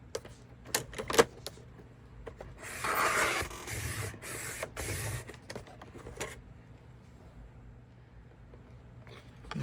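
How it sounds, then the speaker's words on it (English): Chipboard is sliced on a paper trimmer at a craft table: a few sharp ticks and clicks, then a loud rasping cut lasting a couple of seconds, followed by softer handling taps and quiet shuffling, with no voices. "I'm going to grab my other piece of chipboard to trim it at 3 7/8."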